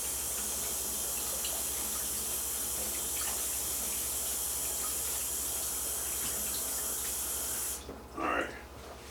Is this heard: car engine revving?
no